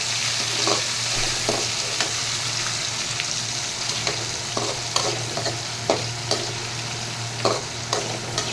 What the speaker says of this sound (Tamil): இதை நல்லா வணக்கிடணும்